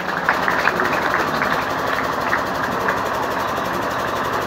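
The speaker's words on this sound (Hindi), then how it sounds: "ये फूलों से सजा हुआ शानदार वाहन जो मुख्यातिथि को लेकर परेड की ओर ले जा रहा है" A flower-decorated parade vehicle carrying the chief guest at a Republic Day parade runs with a steady, droning engine hum, continuous and even in level, heard with faint background crowd noise and no talk.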